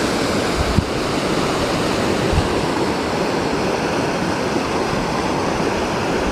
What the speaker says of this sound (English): Creek is right down here.